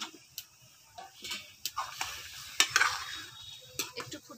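Bread gulab jamun, fried sweets dropped into hot sugar syrup and brought to a boil, give soft bubbling with scattered spoon taps and clinks, near and moderately quiet, with no one speaking.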